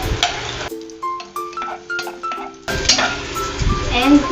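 Onions land in hot oil in a pan, a sizzle that starts, dips, and then returns while utensils clink and a spoon stirs, with a steady run of tonal clatter and no voice.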